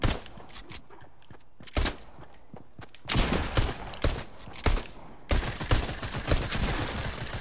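Gunfire in a shooter game, scattered single shots at first, then heavier rapid bursts in quick clusters, loud and close with short gaps between volleys.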